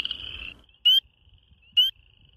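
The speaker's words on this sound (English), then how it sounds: "Chorus frogs have a very different call. It sounds more like the sound made by running your finger down the teeth of a comb." Two short, raspy trills from chorus frogs in a wetland ring out about a second apart, sharp and close against near silence, with a fainter call fading at the start.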